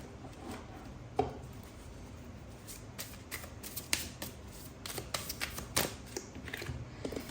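Tarot cards are shuffled by hand with quick, uneven riffling and sharp snapping flicks that grow busier toward the end, sounding close but quiet, with no speech.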